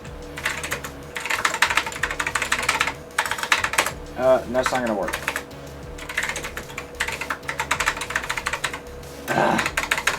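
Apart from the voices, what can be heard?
typing on a computer keyboard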